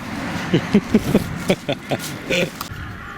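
Crows caw in a wood near Châteaudun, with a series of short harsh calls coming in an uneven rhythm at moderate distance, ending with one longer caw, over faint outdoor background noise.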